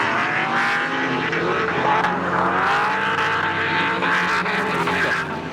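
A drift car at full throttle during a D1NZ Pro-Championship qualifying run at Manfeild, engine screaming steadily with rising and falling revs and squealing tyres throughout, loud and close with no talk.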